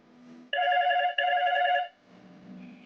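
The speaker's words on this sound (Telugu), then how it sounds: "కాలర్ ఎవరో ఫోన్ చేశారు," A telephone rings for an incoming call to a radio phone-in show, one sustained electronic ring tone with a short break in the middle, clear and close, then a quieter background.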